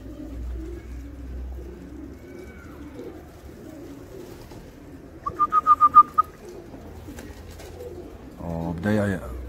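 Turkish tumbler pigeons and ordinary pigeons in Algeria, heard as a quiet outdoor background with a short run of pulsing coos midway and a brief louder call near the end.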